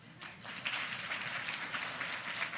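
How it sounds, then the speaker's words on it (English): Audience clapping at a Ministry of Finance and Public Service ceremony, a fairly faint, even patter of applause that swells after a quiet start and holds steady. "hear the bigger clap now"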